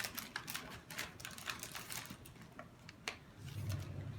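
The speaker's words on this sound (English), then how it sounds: "Now I'm going to open up my packaging." Sterile tracheostomy kit packaging is opened up close, a quick run of crinkling, tearing and clicking sounds, fairly faint, with a slightly heavier rustle near the end.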